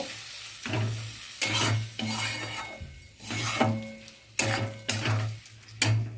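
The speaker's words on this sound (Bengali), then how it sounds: "এবার ভালো করে নেড়ে চালটা একটু ভাজা ভাজা করে নেব" Rice fries in a pan for a katla fish head muri ghonto, with a steady sizzle, repeated scraping stirs every second or so, and a low background hum throughout.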